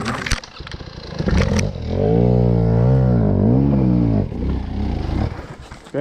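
Motorcycle engine on a forest trail, revving hard in a long rising and wavering roar after a few short bursts, then dropping back to a rough idle close by.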